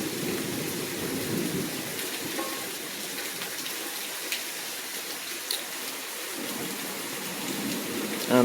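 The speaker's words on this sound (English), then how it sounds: "I'm very grateful for this rain." Steady rain falls in a thunderstorm after a long dry spell, a dense continuous hiss with low thunder rumbling through it and no voices.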